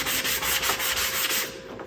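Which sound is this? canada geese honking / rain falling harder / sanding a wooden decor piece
sanding a wooden decor piece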